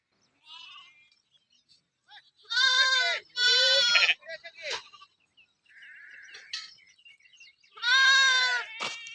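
Sheep and growing lambs from a travelling pilgrimage flock bleat nearby in a few loud, drawn-out calls, with quieter bleats and talk between them.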